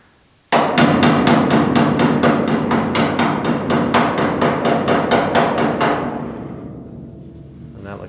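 Hammer and dolly strikes on car body sheet metal during door jamb repair on a GTO restomod, a rapid, loud, evenly spaced series of about twenty metallic blows that slows and fades into a ringing tail.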